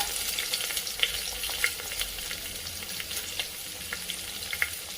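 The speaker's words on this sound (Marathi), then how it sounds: "मसाले छान परतून झाले तर एक उभा बारीक चिरलेला कांदा" Finely chopped onion sizzles with spices in hot oil for tomato rice, a continuous bright frying hiss broken by occasional soft clicks of a stirring spoon against the pan, close and steady.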